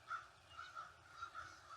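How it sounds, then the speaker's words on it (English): Birds calling in a garden outdoors, with tree frogs nearby: faint, repeated short calls in an irregular rhythm over quiet ambient background. "and I'm sure you can hear the birds."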